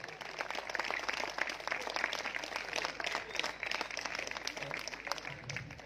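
A crowd at a Fixit workers' convention in Karachi gives sustained applause, many hands clapping in a steady dense roar from the hall, with some voices faintly mixed in.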